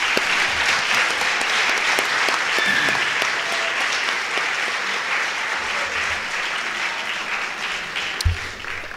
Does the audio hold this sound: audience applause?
yes